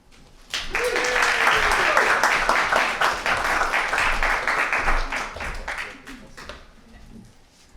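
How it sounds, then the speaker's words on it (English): An audience at a spoken word poetry slam in Fitzroy Library, Melbourne, claps as a poet walks to the stage, a brisk burst of applause that swells quickly, holds, then thins out toward the end. "Let's applaud all the way to the stage the wonderful Talia."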